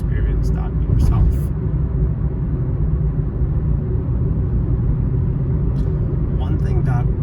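A car cruises along a Bangkok highway with a steady, loud engine and road rumble that never lets up, while a few faint higher knocks and clicks come through near the start and end.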